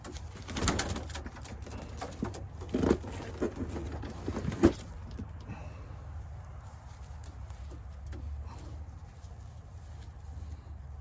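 Long-distance racing pigeons, newly arrived, give soft low coos and rustles in an indoor loft, a few brief louder bursts in the first five seconds, then quieter steady background hum.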